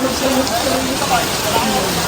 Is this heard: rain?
yes